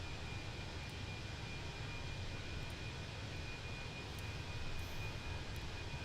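Steady, even drone of an aircraft engine in cruise over Australia in Microsoft Flight Simulator 2020, with a faint high whine running through it and no talk.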